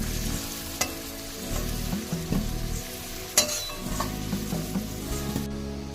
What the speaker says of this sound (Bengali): আলুটা আমি লাল করে ভেজে নিলাম।